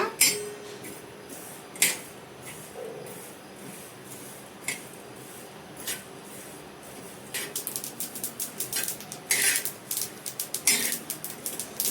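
Whole spices dry-fried lightly in a pan for Rayalaseema-style biryani masala, giving sparse metallic taps and scrapes that turn into a denser run of quick clinks and rattles toward the end, with no talk.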